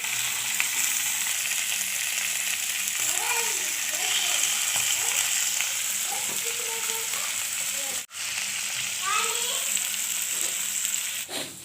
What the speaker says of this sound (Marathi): 10 ते 15 मिनटं तळून घ्यायचे दोन्ही साईडने मासे